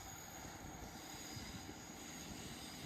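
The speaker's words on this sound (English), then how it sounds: "This one is heading north to Oakhampton." Train on a single-line rural railway at Crediton heading north toward Okehampton, a faint continuous distant rumble with a wheel-on-rail hiss and no distinct clatter.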